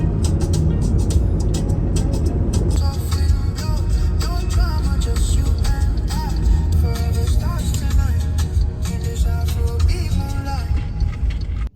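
A car drives along a road in rural Thailand. A steady, loud low rumble of engine and road noise fills the cabin, with faint voices carried over it.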